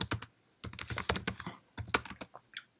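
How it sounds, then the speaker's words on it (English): Quick bursts of typing on a Mac computer keyboard, close and clear, with short pauses between clusters of keystrokes and no talking. "Let's then type in kind regards,"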